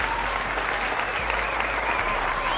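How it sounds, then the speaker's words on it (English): A round of applause for the Capricorns rings out as a steady, dense wash of clapping, loud and continuous from start to finish. "Round of applause for the Capricorns."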